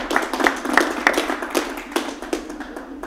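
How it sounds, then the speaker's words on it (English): A small audience claps to welcome panel guests onstage, sparse, distinct hand claps in an uneven rhythm, close and fairly loud, rather than a dense ovation. "If you would give them a big round of applause."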